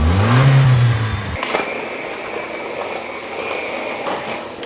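A Toyota Land Cruiser's turbocharged engine revs up with a rising whine for about a second, then settles into a steady, droning idle with a faint high hum.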